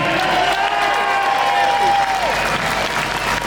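A crowd at a London protest march claps steadily and loudly throughout, dense applause with a faint tonal whistle rising through it.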